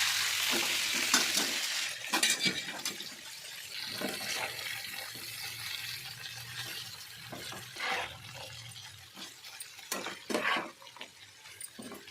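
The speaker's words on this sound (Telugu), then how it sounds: "ఇప్పుడు ఈ తోటకూరని బాగా ఫ్రై అయిన పోపు దినుసుల్లో వేసి బాగా కలుపుకొని మధ్యంత వరకు మరచుకోవాలి" Amaranth leaves are stir-fried with tempering spices, giving a soft continuous sizzle broken by scraping stirs and clatter of a spoon against the pan, close and fairly quiet, with no talking.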